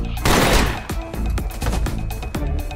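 A burst of gunfire in a Korean action drama, several sharp shots in quick succession, loud and close, ringing over a low background score.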